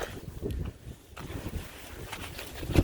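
Frosty wind gusts buffet the microphone in uneven rushes beside the Dnipro river, a rough outdoor roar that swells and fades over a few seconds.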